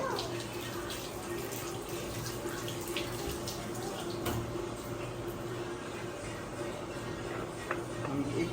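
Mint leaves being rinsed under a running tap, a steady close wash of flowing water with small splashes and a few sharper knocks throughout.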